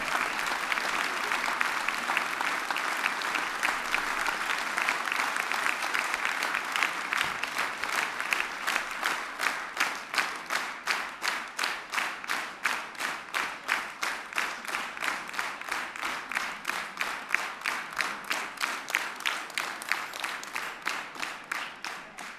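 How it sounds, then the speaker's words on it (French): Sustained audience applause at a French game show, loud and full at first, then settling into rhythmic clapping in unison that keeps an even beat to the end. "Allez, on l'applaudit bien fort."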